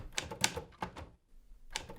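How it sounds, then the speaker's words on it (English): Keys striking on a typewriter in quick, uneven clacks, a short pause, then more strikes, fairly quiet and close. "What are you typing?"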